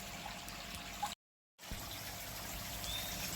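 Water trickles steadily through koi pond filter shower trays, a soft continuous splashing and dribbling that cuts out briefly near the start before resuming at an even level.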